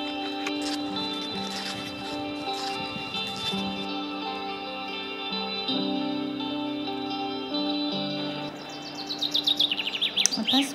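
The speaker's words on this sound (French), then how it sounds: "Un pinson des montagnes." Brambling song outdoors on a mountain road in April, a series of high chirps and tweets over a steady tonal background, ending in a burst of rapid sharp calls.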